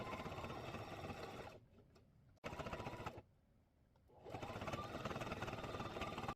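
Sewing machine stitching a seam on a baby hat, a steady close whirring that stops twice for short pauses before running on.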